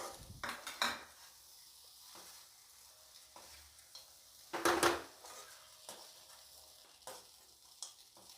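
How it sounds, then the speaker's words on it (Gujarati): Batata poha being stirred in a pan after lemon is added, with a scraping of utensil against metal in a few short bursts, one louder stretch midway, and a soft background sizzle between strokes. "અને હવે ફરીથી એકવાર પાછું સરખી રીતે હલાવી લેશું."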